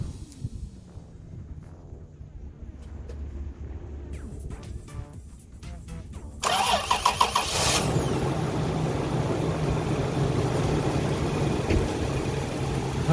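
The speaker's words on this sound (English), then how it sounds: "are going to start the car, see if it works" A 2008 Toyota Tacoma with a newly replaced starter cranks briefly, then its engine catches and settles into a steady, fairly loud idle that runs on for several seconds, after a quieter stretch of small clicks and handling noises.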